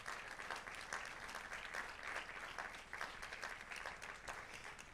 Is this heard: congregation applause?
yes